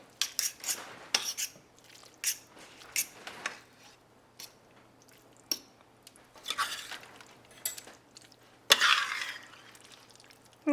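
Pasta being stirred into thick stroganoff gravy in a pot off the heat, with broccoli and bone broth: close, irregular clinks and scrapes of a utensil against the pot mixed with soft wet squelches, no talking.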